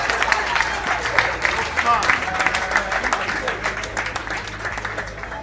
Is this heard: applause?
yes